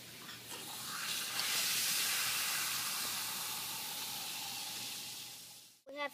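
Four tablespoons of baking soda reacting with two ounces of white vinegar in a volcano setup, a steady broad fizzing hiss that swells within the first second, holds for several seconds, then fades at the end.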